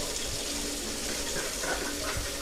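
Cold water streams steadily from a tap into a container, a close, even hiss of running water with no pauses and no talk.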